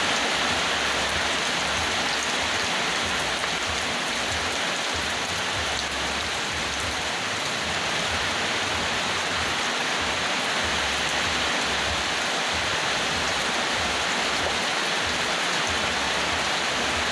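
Rain falls steadily outdoors over a planted garden plot, a dense, loud, unbroken hiss with no talking.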